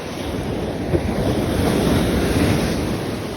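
Sea waves roll and break in steady, loud surf during a blustery day of light-tackle shore fishing, with strong wind buffeting the microphone throughout and no voices.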